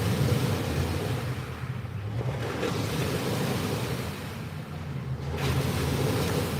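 Wind-chop waves breaking on Lake Wakatipu at Queenstown, a steady washing surf roar mixed with gusting wind noise on the microphone, continuous and fairly loud throughout.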